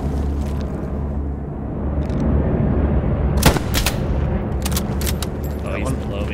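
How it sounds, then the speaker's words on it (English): Battlefield gunfire in the video game Hell Let Loose, with several sharp shots and short bursts cracking over a constant rumbling din, while players talk throughout. "Somebody's fucking shooting me."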